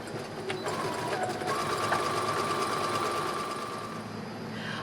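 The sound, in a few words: sewing machine zigzag stitching apron back hems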